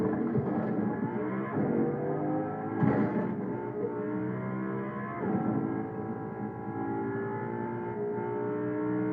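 Video-game vehicle engine in Fortnite, driven with pedals, hums and revs steadily with layered tonal whine and gentle pitch shifts, a continuous near drone with no talk.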